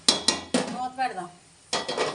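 A metal lid clanks onto a cooking pot of frying onions for mutton gongura, with several sharp close clinks and a brief ringing tone between them.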